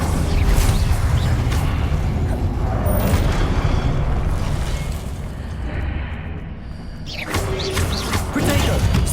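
Fire and blast effects in Hogwarts Legacy as the Incendio spell is cast, loud booming bursts that pulse and roll over several seconds, with a brief dip before another blast.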